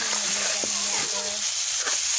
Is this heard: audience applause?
no